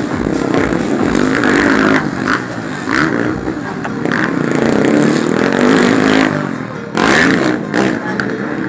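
Motocross motorcycles, including a Honda CRF450, racing at a Mayor's Cup pro open heat, engines revving and roaring up and down continuously with clattering, loud and near.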